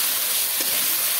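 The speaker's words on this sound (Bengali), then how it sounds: "এখন মশলাগুলোকে কিছু সময় কষিয়ে নেব" Spices being fried down in a pan for a chicken curry, giving a steady, loud broadband sizzle and hiss with a faint scrape partway through and no talking.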